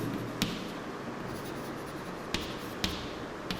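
Marker or chalk writing on a board in a physics classroom, soft scratchy strokes with a few sharp taps against the board, over faint room noise and no talk.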